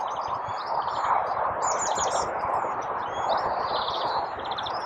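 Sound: greenfinch and great tit singing

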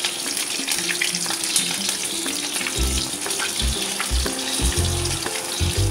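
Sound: pakoras frying in oil while being flipped

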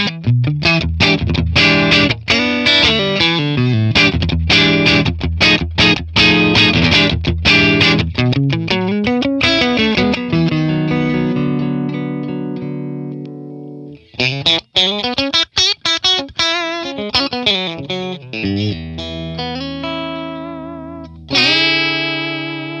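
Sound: Stratocaster electric guitar, Matchless Laurel Canyon clean fat DI

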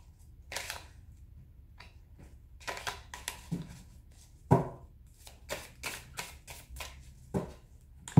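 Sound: tarot cards being shuffled and cut

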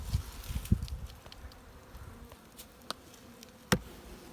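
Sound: honeybees in a hive

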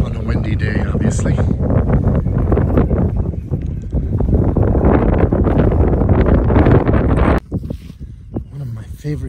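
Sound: wind blowing

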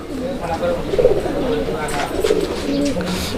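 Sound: fancy pigeon cooing

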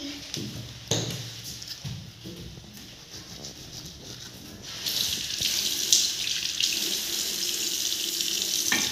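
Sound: water running from a tap for face washing

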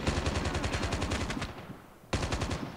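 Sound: gunfire from the video game Call of Duty: Mobile

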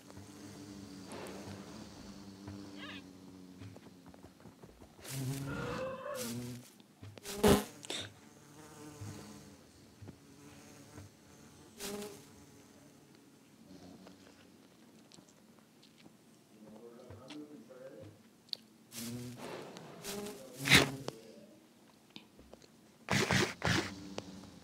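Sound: baby bee buzzing in the video game Minecraft

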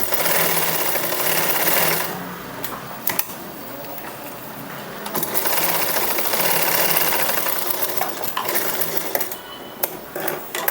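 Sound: sewing machine stitching blouse fabric

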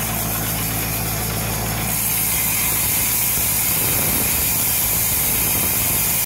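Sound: Jacobsen / Toro mower reels spinning during backlapping

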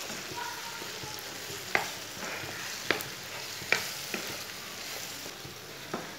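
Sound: spices frying in a pan for karela chana dal

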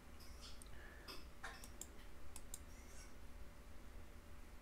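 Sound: computer mouse clicking in structural analysis software

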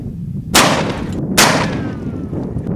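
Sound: Mosin Nagant 91/30 rifle shot hitting a rock-filled jug

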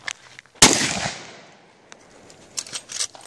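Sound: gunshots being fired

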